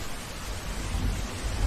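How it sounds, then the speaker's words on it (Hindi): Heavy rain and a deep thunder rumble roll steadily through a Hindi cartoon story scene of a storm on a street, a dense broadband wash with low booming swells and no voices. "आंधी तूफान बारिश में मालती अपनी दो छोटी बच्चियों परी और खुशी को लेकर सड़क पर बेसहारा चलती रहती है"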